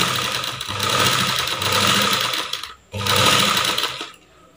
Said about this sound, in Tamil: வச்சு நம்ம தையல் போட்டுக்கிட்டே வருவோம்.